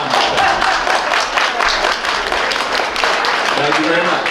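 Audience at an open-mic poetry gathering clapping loudly and steadily throughout, a dense close wash of many hands.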